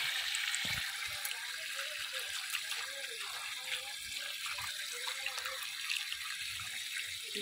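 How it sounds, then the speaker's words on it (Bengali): Tap water runs steadily into a sink while fruit is rinsed, with a continuous close hiss and splash and soft knocks from handling. "এগুলো চলো একটু ধুয়ে এখন রেখে দিই।"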